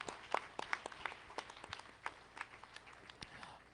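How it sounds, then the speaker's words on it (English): Scattered, faint hand claps from an audience at the CEANA 2023 conference in Atlanta, applauding the Right Honorable Speaker; irregular sharp claps spread over a few seconds, sounding somewhat distant with no talking. "can we give him a round of applause once again"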